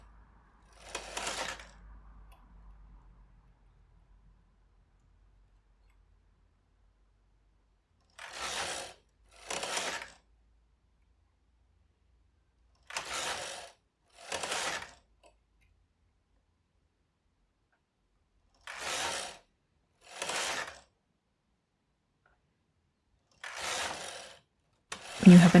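A knitting machine carriage is pushed across its needle bed while knitting a lace shawl, giving short mechanical whirring, clattering passes, mostly in pairs, separated by long silences.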